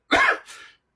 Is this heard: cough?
yes